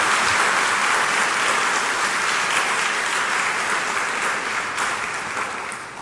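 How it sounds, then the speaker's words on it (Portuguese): Worshippers at a Sunday Mass applaud in a full, continuous burst of clapping that holds steady before tapering off near the end. "Vamos agradecê-los com uma salva de palmas."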